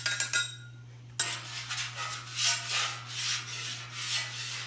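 Metal spatulas scrape and rub across a hot oiled flat-top grill, a steady grinding scrape with rhythmic strokes and clinks over a constant low hum.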